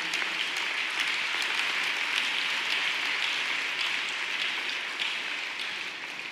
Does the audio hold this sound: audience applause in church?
yes